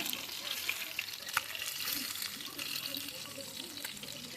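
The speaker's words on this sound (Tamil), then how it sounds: "ஆயில் நிறையா சேர்த்துட்டு இந்த மாதிரி தனித்தனியாக தள்ளி வச்சு மீனை போடுங்க" Fish pieces deep-frying in plenty of hot oil, spaced apart in the pan, giving a steady, fairly quiet broadband sizzle throughout with a few brief pops and crackles.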